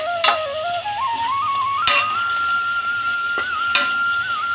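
Carrots, onion, tomato, coriander and curry leaves sautéing in a pan for wheat noodles, a steady low sizzle with a few sharp clicks of a utensil scattered across it and a faint whistling tone drifting above.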